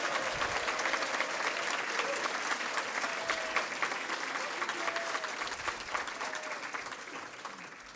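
Sustained applause from a large audience at a college scholars' awards event, dense and steady clapping that gradually fades slightly toward the end.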